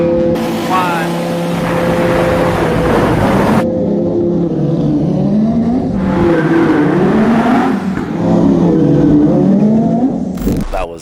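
A twin-turbo CSF-built Ferrari 458 Spider accelerates hard, its loud, close engine rising and falling in pitch through several gear changes with sustained roaring revs.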